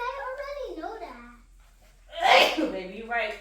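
A single sharp sneeze from a child bursts out midway, loud and close, between stretches of a voice talking before and after.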